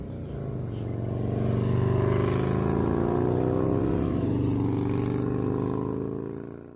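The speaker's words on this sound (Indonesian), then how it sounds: "Sebentar, motor lewat." A motorcycle approaches and passes close by, its hum swelling to a steady drone and then fading away.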